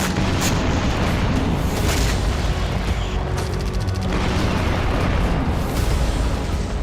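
Artillery bombardment explosions during the Russia-Ukraine war, heard as a loud, continuous barrage of deep booms and bursts that blend into one another throughout.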